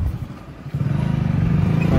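A Hero Splendor motorcycle engine runs close by, a low steady thrum that picks up into a faster, pulsing beat partway through, with no voices over it.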